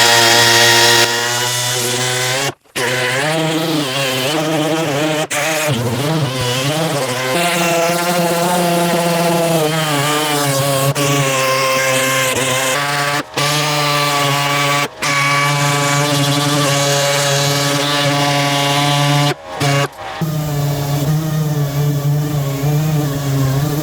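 An 80-grit dual-action sander works steadily over the body of an El Camino, a loud sustained whirring drone that breaks off briefly several times before starting up again.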